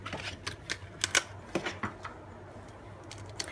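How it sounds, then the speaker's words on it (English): A Big Shot die-cutting machine is cranked with a die on stamped paper, giving a series of sharp mechanical clicks and ratchety taps, irregular and close, over a faint background hum. "I'll position my die over it, and I'll cut it through my big shot."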